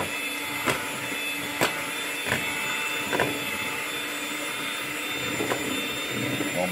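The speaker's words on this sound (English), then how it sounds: "start blending all this stuff together" Electric mixer on low speed blending strawberry shortcake batter in a bowl, a steady whirring hum running throughout with brief clicks and knocks as the beaters touch the sides.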